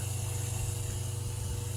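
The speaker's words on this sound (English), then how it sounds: "I'm going to give some voltage to the hot line here and fire this pump up" A Quantum Fuel Systems 255LPH electric fuel pump, installed in a Cavalier fuel tank, runs in full bypass with a steady rapid mechanical whir and buzzing hum, continuous and close.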